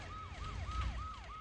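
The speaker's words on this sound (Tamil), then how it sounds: "பாத்தியா, சைலன்ஸா பேசுறதுக்கு சைரன் அலறுது பாரு." An emergency siren in a Tamil comedy scene wails in a steady repeating rise-and-fall cycle, loud and continuous, with no voices over it.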